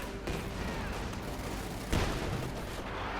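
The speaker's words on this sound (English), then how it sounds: "Pack howitzer firing still." A pack howitzer fires in Company of Heroes 2 amid a busy battlefield, one sharp booming shot cracking out over a rumbling din of distant gunfire and explosions.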